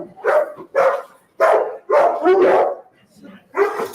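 A narcotics detection dog barks five loud, close, sharp times in an irregular rhythm, with short pauses between barks and a faint voice in the background.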